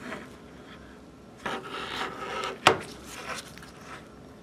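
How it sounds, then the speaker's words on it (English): Plastic pry tool run along the edge of an iPhone 6 screen to free it from the casing during a DIY LCD replacement, giving close, quiet scraping and rubbing with a few louder rasps and one sharp click-like snap partway through. "run this pry tool on the sides, and you can see that it's beginning to free the screen from the rest of the casing"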